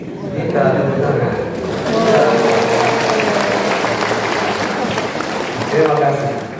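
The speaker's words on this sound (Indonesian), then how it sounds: "Kita tepuk tangan." Congregation clapping in a church during a Sunday Mass, a steady wash of applause that swells and continues for several seconds, with voices mixed in.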